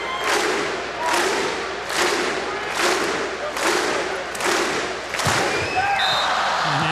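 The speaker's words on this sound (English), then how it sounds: "They clap in unison." A crowd of about 4,000 at the Stan Sheriff Center claps in unison during a Hawaii vs Stanford men's volleyball match. Loud, even bursts of clapping arrive roughly once per second, filling the arena.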